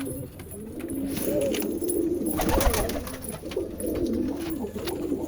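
A pigeon coos softly and repeatedly near its cage, low rolling calls close by against a quiet background, with one brief louder flutter midway.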